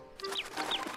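Cartoon ducks in the video game Lost in Play give a short burst of clucky, quacking calls, close and fairly loud, with several squawks overlapping over about a second.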